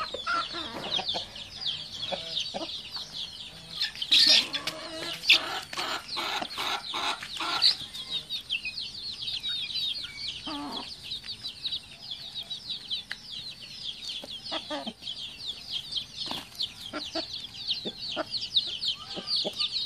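Roosters and hens cluck continuously at close range, with a busy flock chattering throughout and a few louder squawks and crows standing out; a large rooster of about 3.5 kg is among them.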